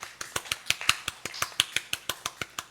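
Sparse rhythmic clapping during a church worship service for the pastor's wife and child, a few sharp distinct claps in a steady quick beat, fairly faint and without talk.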